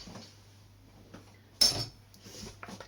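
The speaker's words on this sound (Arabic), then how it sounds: "صافي دابا غادي نخلط هاد الدانيط مع هاد الشوكولات مزيان" A spoon knocks once against a bowl while walnuts are stirred into chocolate for a walnut and carrot cake, a single sharp clink amid faint, quiet handling noise in an otherwise hushed kitchen.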